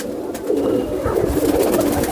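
A pigeon held in someone's hands coos softly in low, throaty bursts close by, over steady outdoor background noise, with no voices.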